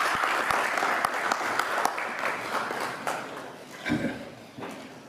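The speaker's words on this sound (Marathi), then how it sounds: "सगळ्यांनी जोरदार टाळ्या वाजवायचे." Audience applause at a youth motivation event in a hall, with scattered claps fading in and out and a noisy crowd bed, moderately loud throughout.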